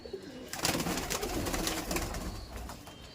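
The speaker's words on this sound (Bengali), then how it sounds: "দেখুন দেখুন সমস্ত ধরনের পায়রা" A large pigeon farm with hundreds of birds fills the air with constant overlapping low coos and wing rustles, a dense, close flock sound swelling after a quiet first half second.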